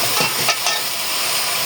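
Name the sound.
stirring and frying chachchori in a pan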